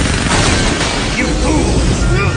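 Cannon fire in an anime battle rumbles as a dense, loud, continuous roar of booming blasts, filling the whole moment with heavy low-end noise and no clear gaps.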